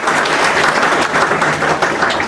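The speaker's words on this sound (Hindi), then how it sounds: "ताली बजा सकते हैं" An audience at an Art of Living introductory talk claps in a dense, even, continuous round of applause, loud and close throughout.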